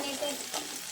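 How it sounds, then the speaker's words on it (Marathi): A spoon stirs guar bean curry with turmeric and salt in a pan, giving a soft, brief scraping and light sizzle up close, without talk. "चम्मचने ढवळलेला आहे."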